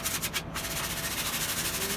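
Steady, rhythmic scratchy rubbing of 150-grit sandpaper on a wooden mid-century modern dresser, close up, with even back-and-forth strokes throughout and no talking.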